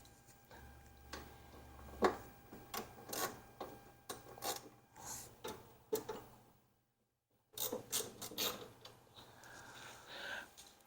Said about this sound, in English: This is just a small ratcheting wrench where I've installed a 5mm bit.